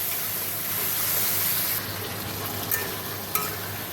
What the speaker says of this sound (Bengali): দেখো মশলাটা কষে আলুটা দিয়ে দিলাম